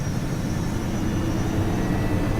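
A steady, loud engine drone with a dense low rumble of a helicopter flying close by in the video game Arma 3, continuous throughout with no voices.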